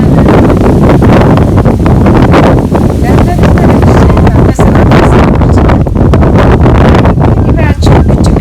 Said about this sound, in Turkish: Rüzgar rüzgar var çok rüzgar.